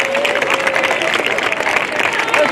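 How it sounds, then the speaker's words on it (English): An audience at a high school semester awards ceremony gives a steady, close round of applause with crowd murmur mixed in, holding at an even level throughout. "one more round of applause"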